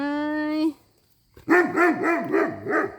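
After a steady tone and a short pause, a dog barks in a quick series of five or six close, loud woofs with a howling quality.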